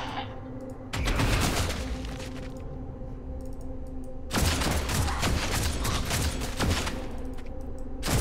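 Bursts of rapid automatic gunfire from the video game Warhammer 40000: Deathwatch come in two loud volleys of dense crackling shots over a low ambient hum.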